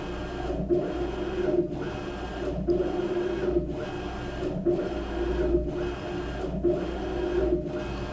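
A CNC machine under cncGraF software control moving back and forth at a set maximum speed, giving a loud continuous mechanical whir with regular motor-driven pulses about once per second and no speech.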